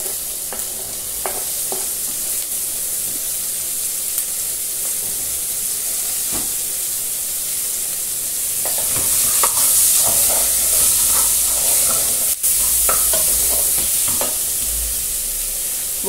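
Tomato and bell pepper frying in a pan, a loud, steady hissing sizzle that swells halfway through, with scattered clicks and stirring scrapes, no voices.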